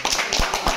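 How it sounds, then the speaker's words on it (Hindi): Brief scattered clapping for the boys who cooked chicken and paneer at a New Year's Eve gathering at Lakshya Defence Academy, a few close, sharp claps in quick irregular rhythm. "तालियां"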